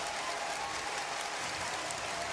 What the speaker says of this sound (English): Some strong performances from Mongolia as they receive as applause as they make their way out of the arena.